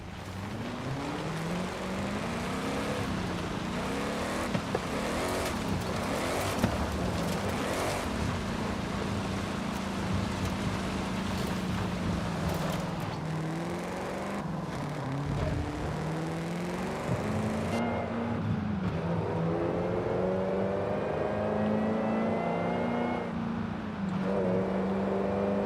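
In Forza Horizon 5, a racing car with a stock six-speed transmission drives hard, its engine note climbing and dropping through gear changes in a loud, continuous roar.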